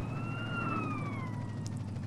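A police car siren wails in SA-MP, the multiplayer GTA San Andreas mod, a steady rising and falling tone over low engine rumble, fairly faint and with no talk.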